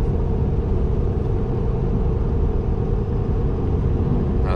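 A stock single-rear-wheel pickup truck on 35-inch mud tires cruises in sixth gear while hauling a heavy load, giving a constant droning rumble of engine and road noise with no talk.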